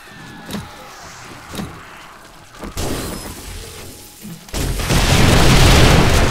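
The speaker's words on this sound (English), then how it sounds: "Oh, that's a massive explosion just now." A massive explosion in 7 Days to Die with the Darkness Falls mod, part of a chained blast on a reinforced titanium base: a few sharp booms build into a loud, sustained roaring rumble that fills the end.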